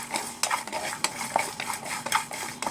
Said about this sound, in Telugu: కాజు ఒక పదిహేను ఇరవై కాజు వేసుకోవాలండి పేస్ట్ కోసం బాగా వేయించుకోవాలి